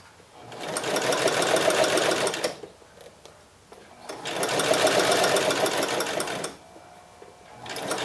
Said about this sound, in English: We're just sewing the liner to the body fabric